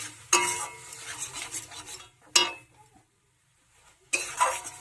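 Masala for a tangra fish curry is stirred and sautéed in a pan in three distinct bursts of scraping, with a faint sizzle and a near-silent pause between the later strokes.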